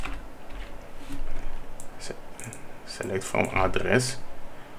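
Fingers type a SQL query on a computer keyboard in quick bursts of clicking keystrokes, the densest flurry coming near the end, while a person speaks over it.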